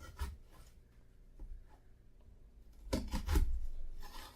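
A knife cutting grapes for salsa on a board, quiet scattered scraping and tapping strokes, faint and close, with a denser burst of cuts near the end.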